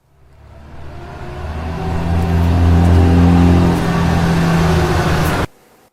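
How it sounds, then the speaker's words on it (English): Dump truck engine revving, a loud rising roar that swells over a couple of seconds, holds steady, then stops sharply. "dump truck,"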